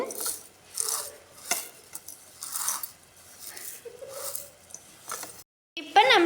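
Crisp fried curry leaves crushed by hand for a curry leaf and garlic thokku, giving close, rhythmic crunchy crackles in short bursts under a bit of voice.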